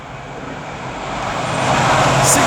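A Freightliner freight train hauled by locomotive 66559 rumbles past at Lichfield Trent Valley, a loud, steady broadband roar that swells gradually as it draws nearer, with no voices.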